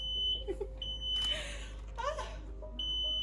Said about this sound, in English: I'm going to set off the smoke alarm